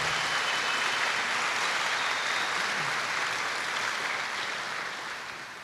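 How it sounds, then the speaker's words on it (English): Crowd applause at a school assembly for police officers and sponsors from Mary Insurance, a dense, steady wash of clapping from many hands that carries on evenly and tapers off at the end. "Let's have a round of applause for those guys."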